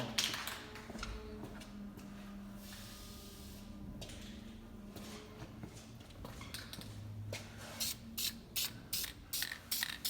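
Duplicolor semi-gloss black spray paint is applied in a light coat to a Corvette part, heard as a faint hiss of spraying with soft rattles and clicks of handling, ending in a series of brief, sharp taps.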